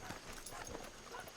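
Horse hooves clip-clop in Red Dead Redemption 2, a quiet irregular patter of steps in the background with faint ambient noise.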